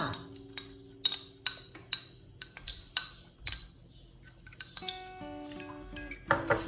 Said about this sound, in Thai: แล้วก็คนนะคะให้เข้ากัน